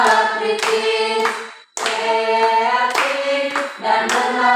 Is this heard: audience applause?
yes